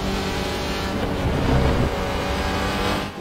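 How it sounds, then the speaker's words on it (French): An Audi RS3 touring race car runs at the Motegi circuit, its engine droning loudly and steadily with a rise in revs midway, heard alone without talk. "On va voir un peu comment l'Audi se comporte sur cette piste qui devrait lui convenir"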